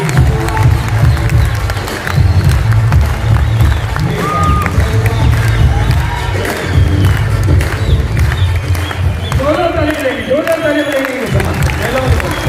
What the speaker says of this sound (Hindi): दिल से ताली बजाएं